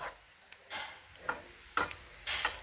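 Fried onions lifted out of hot frying oil in a home kitchen while okra is prepared, giving soft sizzling bursts and several light scraping scoops close by, with no talk.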